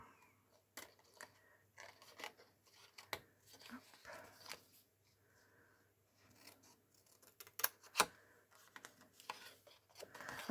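Scissors snip paper bag glue tabs at an angle in scattered, crisp cuts, close and fairly quiet, with light rustling of paper between them.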